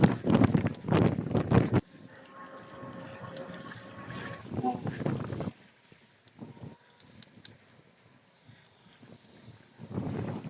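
Super typhoon wind under Signal No. 3 in Sta. Rosa, Laguna, Philippines roars and buffets the microphone, with gusty rumbling that eases partway through. Someone talks over it at the start and end.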